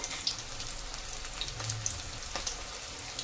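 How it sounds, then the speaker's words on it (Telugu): Small pieces of stiff pakodi batter fry in hot oil, giving a steady close crackling sizzle with scattered pops and spits throughout. "నూనె హీట్ ఎక్కిన తర్వాత కొద్దిగా ఇలాగా చిన్న ముక్కల్లాగా వదిలేస్తున్నాను"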